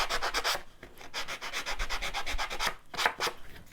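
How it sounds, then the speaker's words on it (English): Sanding sponge rubs back and forth along the edges of sandable cardstock, making quick, close, rhythmic scratchy strokes in short bursts with no talking. "you can also sand the edges and distress just the edges"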